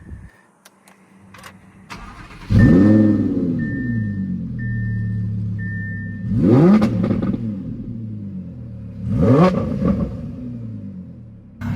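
A 2018 Audi R8 RWS cranks and fires up loudly at close range, then settles into a steady idle broken by two sharp throttle blips that swell and fall away, with no talking.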